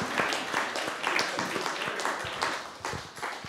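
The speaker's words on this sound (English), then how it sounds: "I think an applause for them." Audience applause for the speakers at a diplomacy event, a steady dense patter of many hands clapping across the room at moderate loudness.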